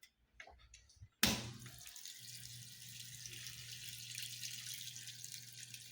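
A Frigidaire Rollermatic washing machine begins filling after a sharp click, water rushing steadily into the tub with a constant low hum underneath, close and continuous.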